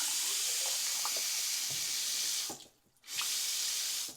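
A bathroom faucet runs with strong water pressure, giving a loud, steady hiss of flowing water that briefly cuts off and then resumes.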